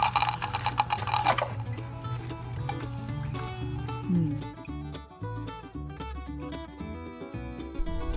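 Water trickles and pours through a DIY home hydroponics system, a soft continuous flow under louder music playing throughout.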